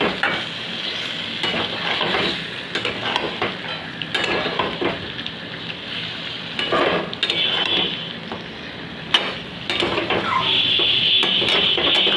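Chicken curry masala is sautéed down in a pot until deep red, with water from rinsing the spice bowl added. A loud, close sizzle runs throughout, punctuated by repeated spatula scrapes and clanks against the pot, with no speech.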